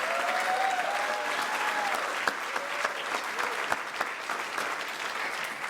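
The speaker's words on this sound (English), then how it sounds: "please give the Pendleton Rhinos a round of applause" A gala crowd gives the Pendleton Rhinos a sustained round of applause, dense, even clapping that fills the room with a few sharper claps standing out.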